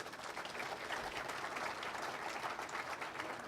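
Steady, dense audience applause fills the whole stretch at an even loudness, with many hands clapping together and no voices standing out.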